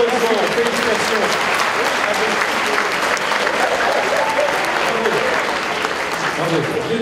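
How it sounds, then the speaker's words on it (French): Steady, dense applause from a large audience at a sports awards ceremony, sustained and loud throughout with a few voices mixed into the clapping. "on les applaudit très chaleureusement"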